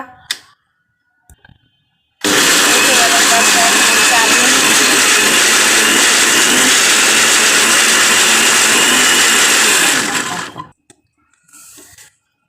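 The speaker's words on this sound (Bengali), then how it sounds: "এবার আমি ঢাকনাটা লাগিয়ে ব্লেন্ড করব।" An electric blender whirs loudly and steadily for about eight seconds while blending boiled eggs, milk and soybean oil into mayonnaise, starting abruptly and cutting off, with faint clicks before and after.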